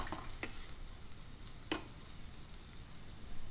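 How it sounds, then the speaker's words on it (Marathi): Ground spices (garam masala, coriander, cumin and Kashmiri chili powder) stirred in a pan for paneer butter masala, a soft steady sizzle with a couple of sharp spatula scrapes, close and alone. "परतून घेऊया."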